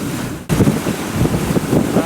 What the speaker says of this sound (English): We're having 60 knots of wind, so we're moving forward.